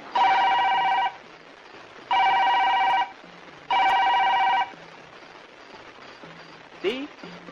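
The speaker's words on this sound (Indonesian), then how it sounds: "telepon di ruang itu berdering dengan keras sekali" A telephone rings loudly in three long bursts separated by pauses, followed by a brief faint chirp near the end.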